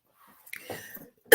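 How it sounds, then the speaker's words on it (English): A single sharp cough from an adult speaker during a talk on women and money, loud and abrupt after a stretch of soft breathing and throat sounds. "I don't know where this cough is coming from, but it is definitely giving me a little problem."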